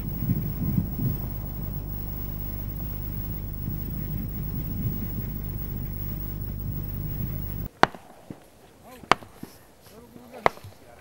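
After a long stretch of loud engine drone, several sharp gunshots crack out one by one, a few seconds apart, at some distance, during a waterfowl hunt for ducks and coots.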